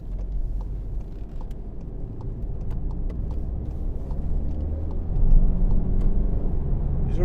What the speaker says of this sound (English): It's a really quick car.